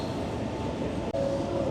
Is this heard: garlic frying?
no